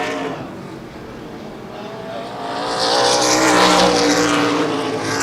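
ARCA/CRA Super Series stock cars race past at Baer Field Speedway, engines roaring and building in volume as the pack approaches, with a steady loud drone throughout.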